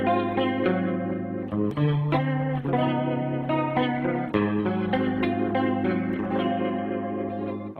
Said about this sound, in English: Let's move on to a great Leslie kind of sound if you're looking for that sort of a tone.